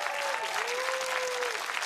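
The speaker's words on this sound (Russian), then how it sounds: "Аплодисменты команде Егора!" A brief burst of steady applause from a Comedy Club studio audience for Egor's team, a continuous crowd clap over a faint sustained tone.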